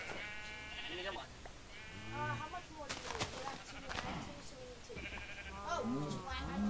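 Several blocky video-game sheep in Minecraft bleat in a string of wavering calls, fairly close and loud, with a player talking over and between them.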